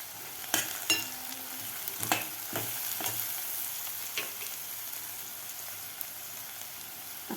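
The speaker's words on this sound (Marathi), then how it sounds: "अशा प्रकारेच आपल्याला कांदा परतायचा आहे." Chopped onion sautés in a hot pan for kande pohe, giving a soft, steady sizzle with a few sharper crackles and stirring scrapes near the start.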